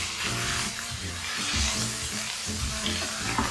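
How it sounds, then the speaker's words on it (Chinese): Minced ginger sizzles steadily in hot oil in a pan, a continuous close crackling hiss carried over soft background music, with no talking. "待油热后，放入姜末爆香"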